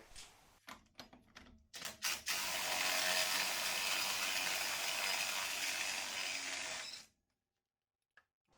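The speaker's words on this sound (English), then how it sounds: "I'm going to use an impact gun on here just to get it off a little easier" A pneumatic impact gun loosens the axle nut on a Jeep JK Dana 44 axle, first with a few short stuttering taps, then a loud continuous rattling burst of about five seconds that stops abruptly, followed by a faint click.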